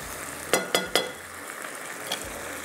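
Capsicum tossed into a hot pan, sizzling and frying with a few quick clinks and scrapes early on, then a softer steady sizzle.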